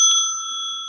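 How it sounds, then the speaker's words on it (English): A single bell struck to mark the end of a round rings out with a clear, bright ding, then hangs in a steady ringing tone that slowly fades. "I finally got a proper bell."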